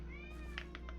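A house cat gives a brief meow, then a couple of quick chirping calls, faint and distant over a steady low hum indoors.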